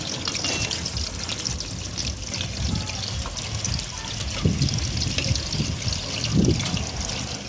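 Vada deep-frying in oil over a wood-fired chulha give off a dense, steady crackling hiss, close and continuous, with a few louder bubbling swells and faint background voices.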